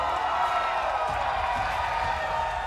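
A home crowd at the HCS Salt Lake City Major 2024 esports tournament cheers from the stands, a broad steady roar of voices filling the arena without a break.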